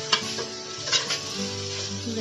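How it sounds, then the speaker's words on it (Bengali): Green capsicum, onion and green chilli are stirred in a frying pan. A steady sizzle runs under a few quick scraping strokes near the start and middle. No voices. "একটু নাড়াচাড়া করব।"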